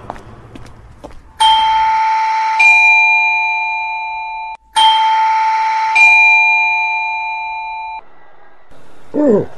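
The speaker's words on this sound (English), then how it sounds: "Ooh, that'll be the doorbell, Teddy." A doorbell rings twice with a loud, ringing electronic chime. Each ring has two tones and fades away slowly, with a short pause between rings. A brief voice is heard at the end.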